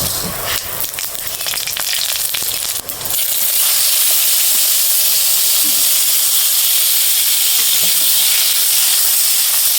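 Panch phoron spices and salt hitting hot oil, a loud, steady, close sizzle and hiss that swells into a dense roar after a few seconds of clattering.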